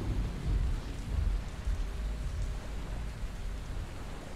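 Steady rain in the zombie game Dying Light, a dense even hiss with a low rumbling undertone that holds constant and fairly loud throughout, with no voices over it.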